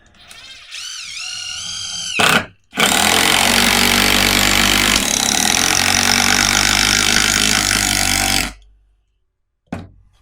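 Bosch 12V impact driver driving a screw through two stacked maple boards, a loud close rattling hammer-whir lasting about six seconds that shifts pitch partway as the top board splits, with short bursts of revving before and a brief blip after.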